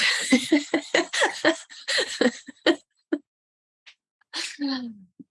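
A person speaks, then a short pause is followed by a single sharp sneeze near the end.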